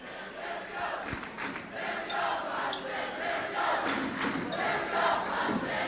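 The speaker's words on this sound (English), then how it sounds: "That brings a rise out of the Potsdam crowd" The Potsdam home crowd at a 1986 NCAA Division III basketball championship game roars in sustained, swelling cheers that fill the arena for several seconds.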